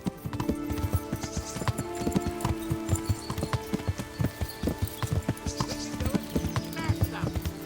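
Horse hooves clip-clop in a steady, quick rhythm throughout a Kingdom Come Deliverance scene, close and clear, with a brief whinny-like tone over the galloping and some voices mixed in.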